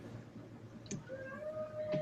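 A cat gives a single faint drawn-out meow within a low hum of room noise, brief and fairly quiet.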